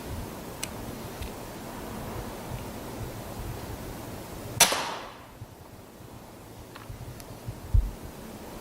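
One sharp rifle shot at a rat on a farm in darkness cracks out midway, a single close report with a short tail over a quiet night background.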